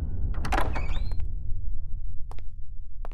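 A door swings open indoors with a soft thunk and rattling mechanism near the start, followed by a few faint clicks and knocks in a quiet room, no voices.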